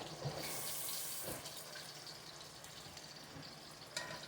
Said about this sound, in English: I'm going to get some water.